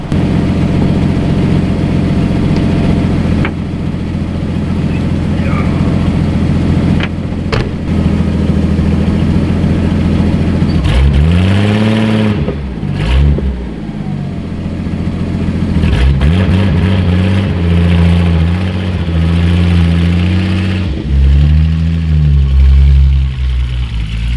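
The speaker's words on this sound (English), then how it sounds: "I've been trying to get this car out of the snow for like a few minutes now, and it hasn't budged" A modified Datsun 280ZX engine revs hard and loud while the car sits stuck in snow, climbing and falling in repeated surges over a steady idle rumble, with no talking.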